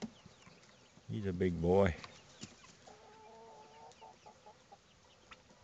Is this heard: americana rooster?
yes